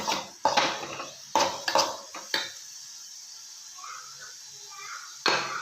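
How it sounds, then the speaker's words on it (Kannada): Spoon clinks and scrapes against a bowl while paddu batter is stirred with coriander, a few sharp knocks then softer mixing sounds, close by. "ಇವಾಗ ಕೊತ್ತಂಬರಿ ಹಾಕೊಳ್ಳೋಣ ಅರ್ಧ ಇವಾಗ ಹಾಕೋತೀನಿ ಅರ್ಧ ಮೇಲ್ಗಡೆ ಹಾಕೋತೀನಿ ಚೆನ್ನಾಗಿ ಮಿಕ್ಸ್ ಮಾಡ್ಕೊಳ್ಳೋಣ"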